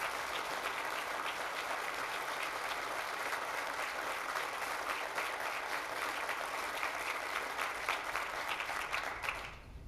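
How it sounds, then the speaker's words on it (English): Audience applause at a council meeting, a sustained, even patter of many hands clapping for nearly ten seconds, then dropping off abruptly at the end. "I've now gotten more applause in the last 30 seconds than I got in 9 years on the council."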